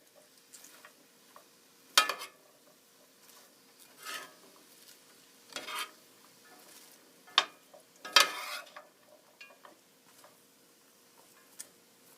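Celery, carrots and cabbage stir-fried for lo mein, with soft sizzling under sharp scraping and clinking of a utensil against the pan in irregular bursts, close and moderately loud.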